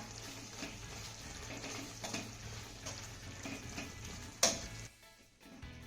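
Guava vegetable curry with finely chopped coriander is stirred in a pan, a steady close sizzle with soft scraping and one sharp metallic clink near the end before it quiets.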